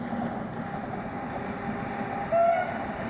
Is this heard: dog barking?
no